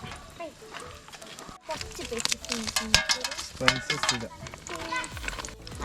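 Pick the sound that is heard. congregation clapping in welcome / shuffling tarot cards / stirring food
stirring food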